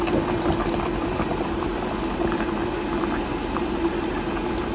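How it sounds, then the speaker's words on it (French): Fish soup simmers on low heat, a steady bubbling and soft patter that holds evenly throughout, close by, with a low steady hum underneath and no voices. "je vais laisser bouillir pendant 15 minutes à feu doux"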